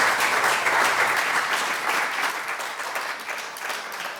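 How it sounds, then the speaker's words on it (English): Audience applause at an apprenticeship celebration in a museum, a steady crowd clapping that starts strong and tapers gradually, with no talking over it. "Can we give one more round of applause for Dr. Ahmad Anakar?"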